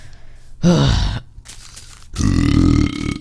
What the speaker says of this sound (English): Sorry, that was a burp.